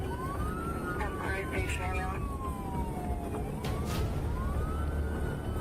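A police car siren wails in steady rising and falling sweeps through a noisy street, fairly loud and continuous throughout, with traffic rumble beneath.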